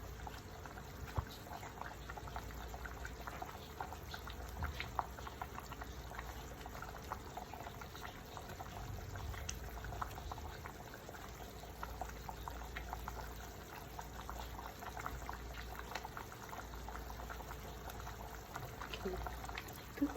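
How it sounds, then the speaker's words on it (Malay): Asam pedas fish broth, a sour tamarind-based Melaka-style curry, boils steadily in a pot on the stove, giving a continuous low bubbling and soft liquid churn at moderate distance, with no voices over it. "Tu kuah kita dah mendidih."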